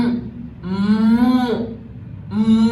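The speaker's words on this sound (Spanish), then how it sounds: "ya que escuchamos la vaca, vamos a imitarla" A cow moos loudly and close by, one long bellow followed by a shorter second moo after a brief pause.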